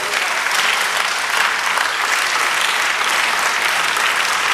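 Congregation at a church sermon breaks into steady, loud applause that fills the whole stretch, dense clapping with a crowd-like wash and no pause.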